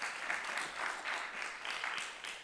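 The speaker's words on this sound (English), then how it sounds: "let's give her a round of applause." An audience at an academic panel on music and antisemitism breaks into brief applause, steady rhythmic clapping that comes in pulsing waves for a couple of seconds.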